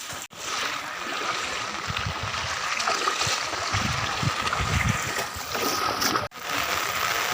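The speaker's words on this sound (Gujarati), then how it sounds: "આ તમને અમારું ગામનું રોડ ઉપર પાણી ફરે છે" Rainwater runs across a village road in Khokharda, Vanthali taluka, during a heavy downpour, giving a steady, broad rushing wash close by that holds level throughout, with two brief dropouts and no voices.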